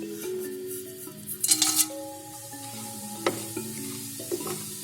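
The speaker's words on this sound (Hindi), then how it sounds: "इसको हम हल्का सा फ्राई कर लेंगे।" Whole garam masala frying in a kadai of hot oil for lamb karahi, soft sizzling with spoon stirring and occasional metallic clinks against the pan, close and fairly quiet.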